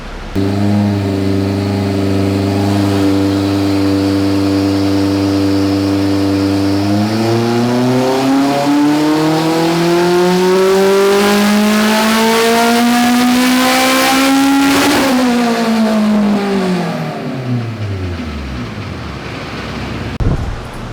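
Turbocharged Honda B-series hatchback engine, tuned to about 400 horsepower, holds a steady loud idle, then revs smoothly up to a high peak and falls back, the exhaust note rising and dropping, with no talk.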